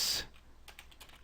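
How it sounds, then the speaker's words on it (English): A computer keyboard is typed on with a few quick, soft clicks after a brief burst of noise, faint and close. "look at how in real time I am typing and sending this"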